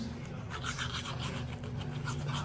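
Someone brushes their teeth with a toothbrush, making a steady, soft scrubbing and swishing sound close by with no speech, over a constant low hum.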